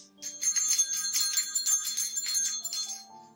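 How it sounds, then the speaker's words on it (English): A bright bell rings repeatedly in quick, shimmering strikes, clear and close, with a lower tone lingering as the ringing fades out at the end. "She heard the sound of a ringing bell."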